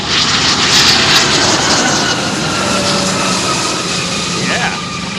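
Large freighter jet landing at an airfield, a loud sustained engine roar close by with aerodynamic braking rushing throughout and easing slightly toward the end.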